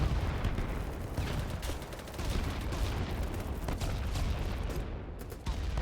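Gunfire crackles throughout a BattleBit firefight, a dense barrage of overlapping shots and distant booms over a rumbling battlefield din, steady and loud.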